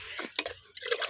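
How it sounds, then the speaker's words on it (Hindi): Water splashes and drips unevenly into a container being filled for birds in hot summer weather, a short burst of close, irregular liquid sounds. "तो अभी इस डब्बे को भरते हैं और फिर ले जाके वहीं डालते हैं।"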